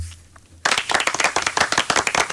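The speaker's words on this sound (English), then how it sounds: "Round of applause for me." A burst of clapping and applause starts abruptly after a quiet moment on a radio phone-in show, continuing steadily with dense, close hand claps and no talk over it.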